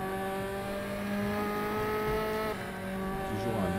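Formula 4 Tatuus single-seater race car in the RaceRoom sim, engine note holding a steady high-revving drone, dipping briefly at a gear change and then climbing again, loud and continuous.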